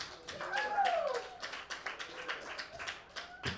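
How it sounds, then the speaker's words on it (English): A small dive bar comedy crowd gives a comedian sparse, scattered clapping, faint and irregular, with a few murmurs mixed in. "Another round of applause for Richard Older."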